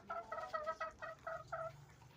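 A game-farm hen, the mother of a breeding rooster, gives a quick series of about eight short clucking calls in a steady rhythm, close and clear, with no talking.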